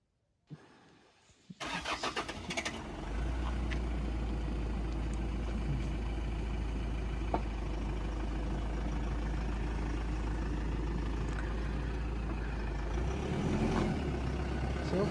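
Vehicles start up outdoors and rumble off, with a clunk and cranking followed by a loud, steady engine drone that holds for many seconds.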